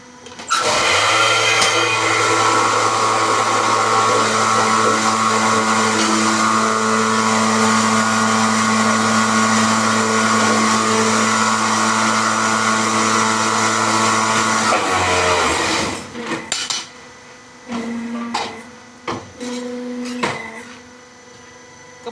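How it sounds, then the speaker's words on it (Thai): A hydraulic concrete block press runs with a loud, steady mechanical whine and hum for about fifteen seconds, then shuts down, followed by scattered clanks and short bursts. "เครื่องอัดนี้ก็เป็นเครื่องอัดที่ใช้ไฮโดรลิกนะครับ"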